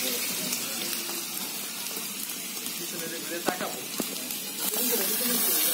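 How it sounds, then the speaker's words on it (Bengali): Onions and green chillies frying in a pan for chicken biryani, a steady hiss of oil with faint scraping clicks throughout, a few sharper knocks near the end. "কাঁচামরিচ আর পেঁয়াজটা সুন্দরভাবে এখন ভেজে নেওয়া হবে।"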